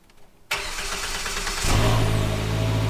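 A car's engine cranks and catches abruptly after a quiet moment, then settles into a loud, close idle that deepens and steadies as it runs.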